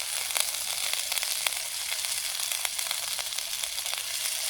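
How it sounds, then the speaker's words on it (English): Meat browns in a hot stir-fry pan at a chilly camp, giving a steady, bright sizzle with faint crackles and occasional stirring taps throughout. "just looking to brown the meat"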